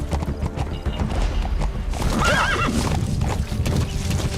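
A horse neighs loudly over the steady clip-clop of galloping hooves in Metal Gear Solid 5, with a busy rumbling background throughout.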